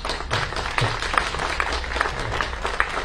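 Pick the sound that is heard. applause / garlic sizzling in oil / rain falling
applause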